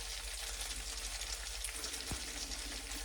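Zucchini and tofu fry in a pan with a quiet, steady sizzle and soft crackle, fairly faint and uninterrupted, with no talking.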